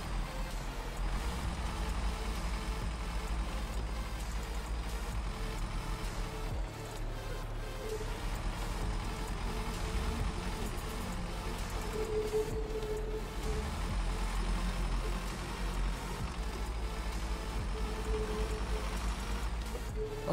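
Heavy truck engine idling and rumbling in the Snowrunner video game, a steady loud low drone that holds for the whole stretch with no talk over it.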